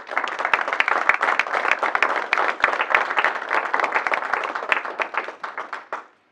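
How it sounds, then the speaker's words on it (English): An audience gives a big round of applause at a community meeting. Many close, distinct claps keep a lively, uneven rhythm for about six seconds, then thin out and stop abruptly. "Let's give a big round of applause to Aaron Phillips."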